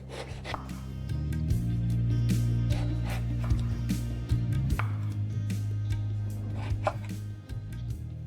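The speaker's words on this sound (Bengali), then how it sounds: "আর এই একইভাবে আমি সেকেন্ড বেগুনটাও কেটে নিচ্ছি।" Knife cutting eggplant for a doi begun recipe: irregular, close taps and rasping slices against a board, repeated steadily over a low background hum.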